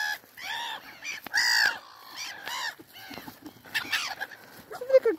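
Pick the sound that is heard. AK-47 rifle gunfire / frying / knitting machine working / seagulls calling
seagulls calling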